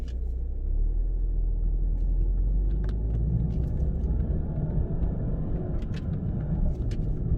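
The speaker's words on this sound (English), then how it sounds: "You'll hear the high revs, you know, in each gear." An Audi TT Mk3 Roadster engine revving high through the gears in manual mode, a steady loud low rumble heard from inside the car with faint clicks above it.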